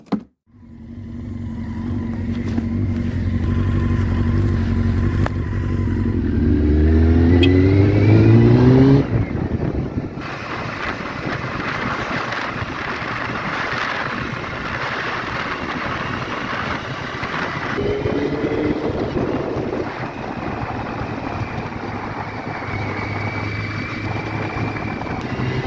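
A Honda CBR600F3 motorcycle on its first test ride after restoration revs up through the gears with rising engine whine, then cruises with steady engine drone and heavy wind rush.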